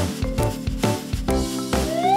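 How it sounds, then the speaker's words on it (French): A hippopotamus call used in a children's animal-learning cartoon: a loud series of throaty, honking grunts in uneven bursts, close and heavy, ending on a rising squeal, with no speech over it. "C'est le son d'un hippopotame!"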